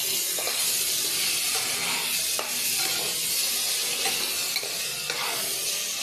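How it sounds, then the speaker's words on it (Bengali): Chopped onion frying together with potatoes for a Bengali cauliflower curry makes a dense, continuous hissing sizzle up close, with faint occasional stirring knocks and no speech. "একটা কুচনো পেঁয়াজ দিয়ে দিলাম আলুটার সঙ্গে সঙ্গে ভেজে নিচ্ছি"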